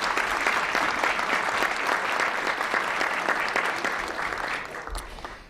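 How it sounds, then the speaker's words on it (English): A luncheon audience at the National Press Club gives a warm, sustained round of applause, dense steady clapping that fills the room and tapers off at the end. "please give them a warm round of applause"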